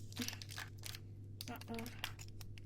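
A Nescafe instant coffee packet is torn open with short, close crinkly rustles, heard under a voice talking and a low steady hum in the background.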